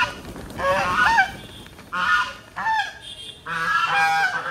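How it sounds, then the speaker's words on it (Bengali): Farm geese honk loudly in several overlapping bursts while running around, with brief pauses between the calls and no talking. "রাজহাঁসগুলো কিন্তু ঠিকভাবে দৌড়াদৌড়ি করতেছে"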